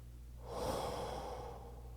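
A slow, deep breath drawn in and let out, quiet and close, alone without talk, rising in the middle and fading over about two seconds.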